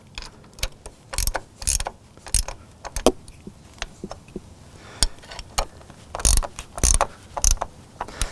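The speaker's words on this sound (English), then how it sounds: "so I'll nip the bolts off now so that we've got a nice tight" A ratchet tightens bolts on the legs of a Wedgetail camper trailer, making close, irregular metallic clicks and clunks in quick bursts with short pauses between turns.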